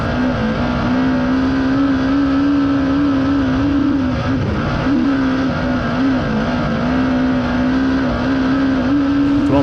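A USAC midget race car with a Toyota engine on a Spike chassis, number 87, drives onto a clay track. Its engine gives a loud, steady, high-revving drone that holds close to one pitch throughout.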